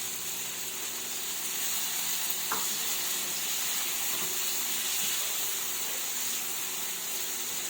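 Two large tomatoes sauté in a hot pan for a Filipino tomato-and-egg breakfast, giving a steady, even sizzle and hiss throughout with one light clink partway through and no talking.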